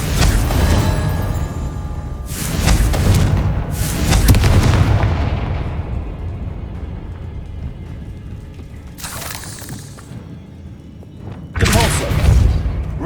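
Confringo blasting spell explosions in Hogwarts Legacy: several loud, booming blasts with broad crackling bursts, spaced seconds apart, each fading into a low rumble.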